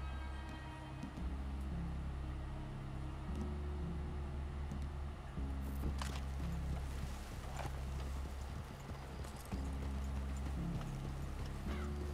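Horses walking with steady clip-clop hoofbeats on a trail in a Red Dead Redemption 2 game scene, loud and continuous over low rumbling background music, with brief snorts and faint talk at times.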